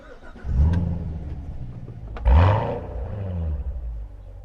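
A 2014 Chevrolet Corvette Stingray Z51 with a manual gearbox starts up nearby, with a sharp crank and a loud roar that settles briefly, then a second bark of revs before it drops into a deep, steady idle.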